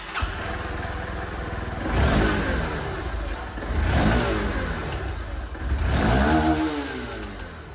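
A Honda SP160 motorcycle engine and exhaust idling near the microphone, rising in three firm throttle blips that swell and fall back to a steady mid-pitched burble, with no talk.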